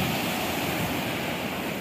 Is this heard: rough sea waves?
yes